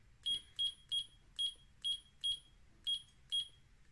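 The alarm of a rechargeable LED touch-control table lamp sounds as eight short, evenly spaced high beeps. They are faint but clear over quiet background hiss.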